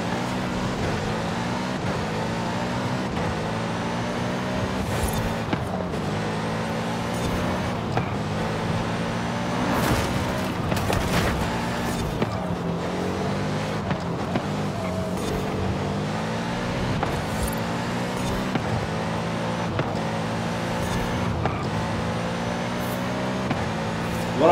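Cars racing under AI control in Forza Horizon 5, a continuous loud engine drone with rhythmic rising and falling revs as gears shift, steady tire and road noise throughout, no voices.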